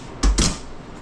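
The door of a Simply Bread bakery oven shuts on sourdough country loaves, two quick close thuds with a metallic clatter, followed by a quiet hum.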